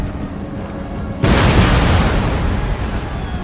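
Artillery fire in the video game Total War: Empire: after a low rumbling backdrop, a single loud, deep cannon boom bursts out and is left as a sustained rolling roar that lingers to the end.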